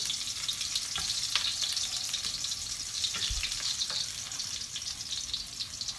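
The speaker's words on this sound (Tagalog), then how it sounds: "Uunahin natin sibuyas." Onions frying in a pan for adobo, a steady loud sizzle that fills the whole stretch, with occasional clicks and stirring scrapes and no talk.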